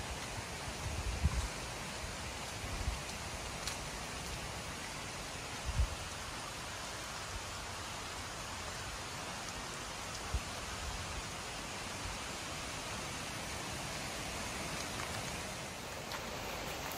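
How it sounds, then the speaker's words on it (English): Steady rain patters down through a forest on Maui, Hawaii, a constant soft hiss with occasional heavier drips and faint rustling, with no voices. "Other than it's raining, but you know, it makes everything so green."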